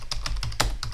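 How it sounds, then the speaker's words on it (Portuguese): Keys on a computer keyboard are struck in quick, steady succession, about eight distinct close clicks in a second with no talking. "agora vou digitar o parâmetro em si"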